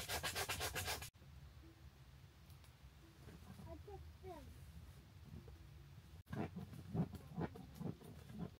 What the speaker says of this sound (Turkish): Zımparalayacağız şurayı.